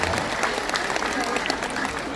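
Steady applause from a crowd at an Indonesian event, dense and continuous clapping throughout with a voice faintly underneath.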